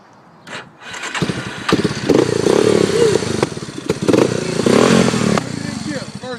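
A kids' ATV engine runs steadily, revving up and down in loud close bursts with someone talking over it.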